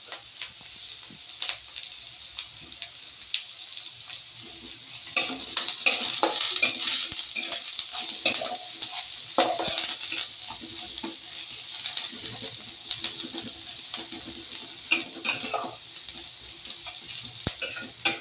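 Onions frying in a pan for palakura pappu, with curry leaves added, give a continuous sizzle, while a metal spatula scrapes and clinks against the pan repeatedly at close range.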